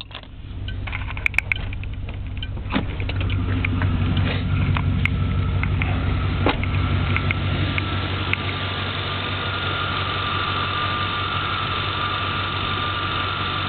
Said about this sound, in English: Engine idle's nice.